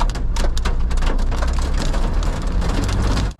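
Big hail pelts a storm-chasing vehicle at night during a tornado chase near Chicago, a dense, loud, continuous rattle of hard impacts with sharper individual strikes, cutting off abruptly at the end.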